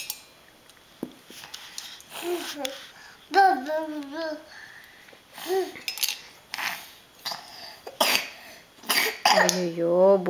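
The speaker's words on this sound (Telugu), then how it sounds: "బుజ్జి తల్లి దగ్గుతుంది" A small girl coughing in short, scattered bursts at home, mixed with her babbling and vocal sounds, a few light clinks of objects in a quiet room.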